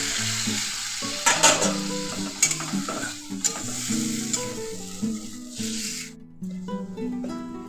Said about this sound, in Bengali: এবার জল দিয়ে দিচ্ছি সামান্য জল দিয়ে দিলাম